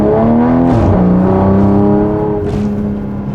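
Engine of a modified car pulling hard under acceleration, a steady rising drone with a shift-like dip partway through, close and loud, no talk.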